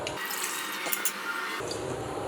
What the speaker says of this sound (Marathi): पाणी घालायचं आहे